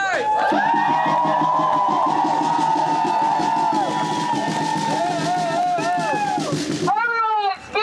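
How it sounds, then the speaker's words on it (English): At a protest rally against immigration enforcement, a crowd cheers and claps for the organizers, voices rising in whoops and shouts over a bed of clapping, with a loud voice over the noise before it cuts off near the end. "Round of applause for the organizers!"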